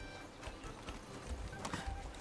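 Quick, faint clip-clop of horse hooves trotting in the video game Kingdom Come, with a voice murmuring in the background.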